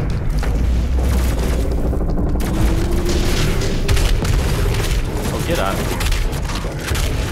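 Gunfire and booming blasts in Doom Eternal gameplay on Xbox One keep up a loud, dense barrage with rumbling low end, and someone talks over the action.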